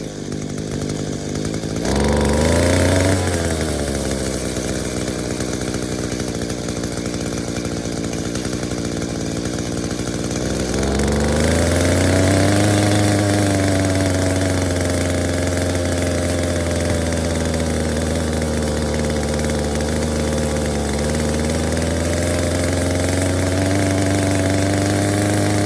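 A trash-found Echo SRM 2300 string trimmer engine runs loud and close, idling with a buzzing two-stroke whine, then revving up twice and holding a high, steady pitch.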